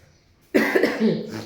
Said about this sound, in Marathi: आंबट न खाऊन सुद्धा खोकला आलाय